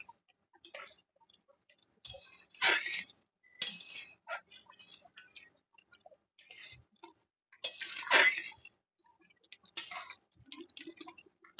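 A spoon stirs pointed gourd pulao in a pot in a home kitchen, giving intermittent clinks and scrapes against the metal in separate bursts with quiet gaps between them, close by and with no talking.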